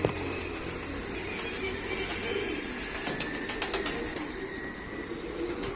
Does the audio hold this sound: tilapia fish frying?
no